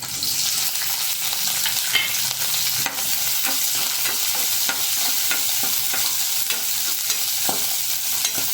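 Ground spices roasting in oil with green chillies for matar paneer, a strong, steady sizzle with frequent stirring scrapes and light taps of a spoon, close and continuous, no talking.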